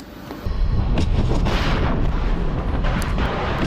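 A Russian Zircon missile attack sets off a deep, heavy blast that erupts suddenly after a brief hush and rumbles on continuously, loud and broad, with no voices.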